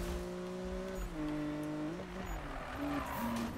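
Car tires squeal through a corner in the Need for Speed video game, a sustained pitched screech that bends and shifts in tone over an engine rumble, moderately loud with no talk.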